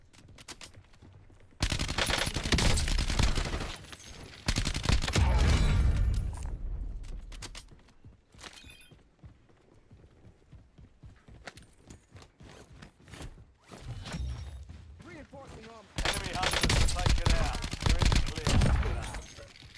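Heavy automatic gunfire rattles through a shooter video game in several long, loud bursts separated by quieter gaps, with dense rapid shots and clattering mechanical sounds, and some voice chatter in the lulls.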